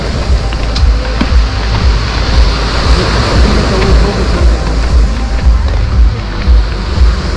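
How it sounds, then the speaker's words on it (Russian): Loud, continuous Black Sea surf at a beach in Lazarevskoye, with rolling waves and wind buffeting the microphone. "еще шумит море"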